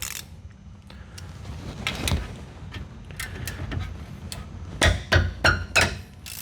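A hammer whacks 17 mm bolts on a Chevy/GMC van to break them loose, about four sharp metallic strikes in quick succession near the end, after quieter clanks and scraping of work.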